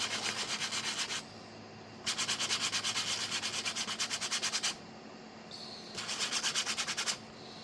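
Hand sanding of 3D printed ham radio parts, feet and knobs, scuffing a shiny surface in three bursts of quick, rhythmic rubbing strokes separated by short pauses, close up.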